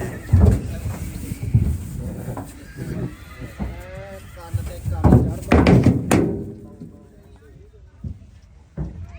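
A horse whinnies a few times between people talking nearby at a horse market in Muktsar, with thuds and shuffling around it.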